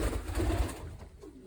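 A pigeon cooing close by in a low, throaty murmur, heard alone in a short burst.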